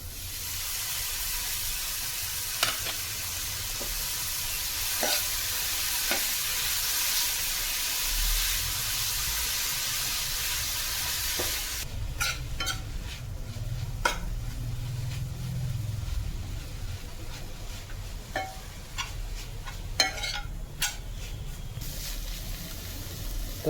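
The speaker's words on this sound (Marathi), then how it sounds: "तर आता आपण ह्याच्यामध्ये जवला घालून घेऊया आपला." Dried shrimp (jawla) frying in an onion-garlic masala gives a steady sizzling hiss throughout, with scattered clicks and scrapes of stirring in the pan.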